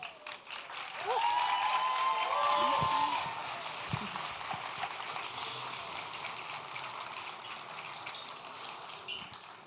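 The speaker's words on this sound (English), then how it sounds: "open the curtains and give a warm applause for Fatima" An audience claps warmly as the curtains open for a dancer at an evening puja program, the applause swelling and then thinning into scattered claps, with a faint voice briefly audible.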